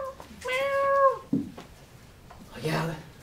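A performer at an improv festival in Paris imitates a cat with a drawn-out vocal meow, followed by a short sharp cry and a second rougher meow, close and clear against quiet room noise.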